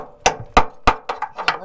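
Metal panel on a Fiat Ducato motorhome struck repeatedly to check for rust, six sharp close knocks in quick irregular succession.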